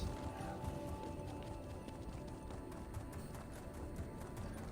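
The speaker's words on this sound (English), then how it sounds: "Oh, that is one nice horsey horse." Video game horse mount clip-clopping, a quiet, steady run of hoof beats over a busy background, faint and continuous with no one talking.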